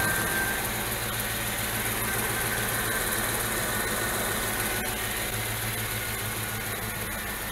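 A Dodge Dakota's 4.7L V8 idles in a steady, even rumble with a constant mechanical hum throughout, heard close and without voices.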